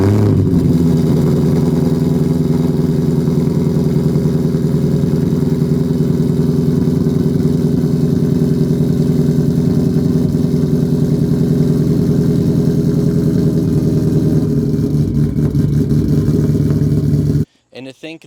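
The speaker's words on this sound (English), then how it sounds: "have never had a Shelby 1000. Sounds a little different, drives a little different" A supercharged 2012 Shelby 1000 S/C wide-body Mustang V8 runs loud and close with a deep, steady engine drone that holds throughout and then cuts off abruptly near the end.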